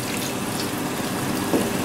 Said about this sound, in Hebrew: מוסיפים בין כוס לכוס וחצי מים,